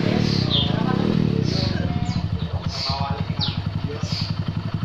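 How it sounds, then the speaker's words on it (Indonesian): A motorcycle engine idles steadily after a dead spark plug is revived, its putter running as a rapid even pulse close by, while someone talks over the start. "Mesin hidup normal ya."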